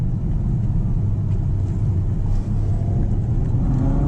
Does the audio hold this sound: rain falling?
no